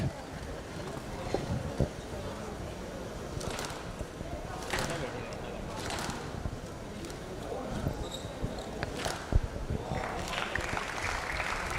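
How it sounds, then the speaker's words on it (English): Spectators at a professional squash quarter-final cheer and clap in a sustained, busy roar, with a few sharp ball or racket impacts and commentator voices talking over the din. "Crowd going mad."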